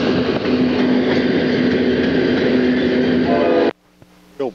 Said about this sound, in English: first train over the new rail at Rossville.